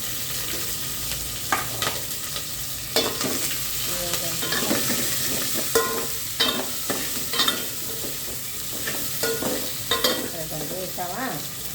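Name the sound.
green chillies frying in a pan for dal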